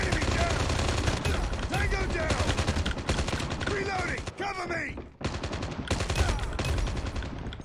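Rapid gunfire from the opposing team in an online shooter game, dense continuous automatic bursts close and loud, with brief pauses and game effects mixed in.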